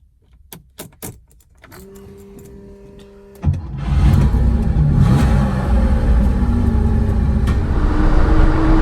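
A 50-year-old Porsche 911 with keys jangling and clicks, then the engine cranks and catches into a loud, close, steady rumbling idle that holds to the end.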